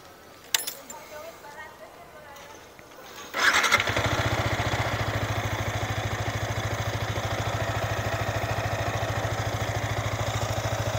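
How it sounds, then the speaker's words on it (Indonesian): A Yamaha R15 motorcycle engine is started after a few quiet clicks and handling sounds, catching with a sudden burst and settling into a steady, close, rhythmic idle that continues to the end. "Ini kita coba nyalakan mesin ya."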